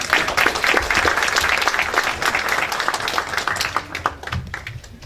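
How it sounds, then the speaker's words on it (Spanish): An audience at a climate change forum applauds to welcome a speaker. The steady clapping from many hands is moderately loud and fades toward the end. "Recibimos con un fuerte aplauso al ingeniero Morales."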